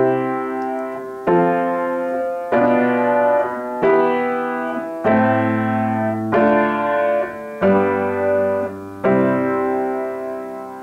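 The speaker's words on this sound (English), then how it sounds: "And it sounds like this if I played on the piano." Piano playing a circle-of-fifths chord progression, eight sustained block chords struck one after another at an even, unhurried pace, each ringing and fading before the next, with no talking.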